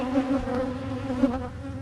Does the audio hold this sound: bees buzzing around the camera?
yes